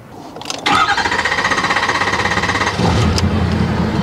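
Diesel truck engine cranks briefly and catches, settling into a loud, steady, rapid diesel clatter heard up close, with a shift in tone near the end as the idle changes; no voices.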